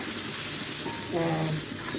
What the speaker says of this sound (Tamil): இது வதங்கட்டும்